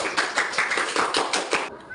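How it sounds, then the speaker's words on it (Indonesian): A small classroom group claps for a few seconds, individual hand claps distinct and close, ending abruptly into quiet. "tepuk tangan buat tersebut"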